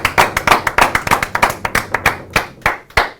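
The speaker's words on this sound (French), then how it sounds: "Applaudissons." A small audience at a Lyon variety show claps for a performer, with distinct, close, fairly loud individual hand claps in an uneven, fast rhythm and no voices over them.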